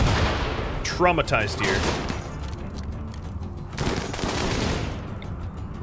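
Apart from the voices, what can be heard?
mortars and gunfire in RimWorld, video game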